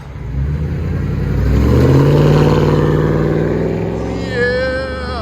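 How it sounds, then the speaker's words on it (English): A straight-piped Ford Expedition with a 5.4L V8 and its muffler and resonator deleted revs loudly and close by, the exhaust note climbing, holding, then easing off with a brief higher whine near the end. "Ford Expedition muffler and resonator delete."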